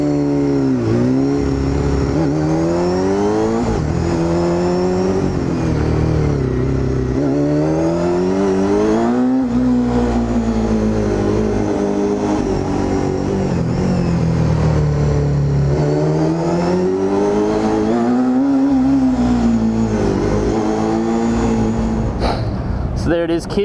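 A Honda CBR250RR inline-four sport bike engine revs repeatedly up toward 20,000 RPM on a test ride, its loud, rising and falling high-pitched wail filling the whole stretch with wind noise, ending with a brief clatter.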